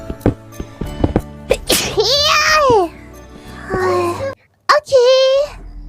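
Mococo, a character in a game, gives a sharp, close sneeze in the middle of high, childlike voiced sounds and chatter, with brief gaps and short tapping noises around it.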